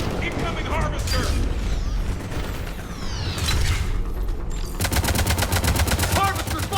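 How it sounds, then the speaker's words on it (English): Heavy weapons fire from a harvester in the Mass Effect game, aimed at a turret: a dense, continuous stream of gunfire and mechanical noise, with a rapid, evenly pulsed burst that grows louder near the end. "Harvesters firing on the turret!"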